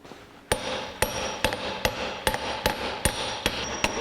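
Eight sharp hammer strikes at a steady pace drive a new pinion seal home with an installer tool on a 1982 Jeep CJ7 axle, each blow close, loud and ringing, with no talk.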